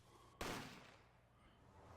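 A gunshot sound effect from the video game Apollo Justice: Ace Attorney: one sudden loud crack followed by a fading rumble, alone.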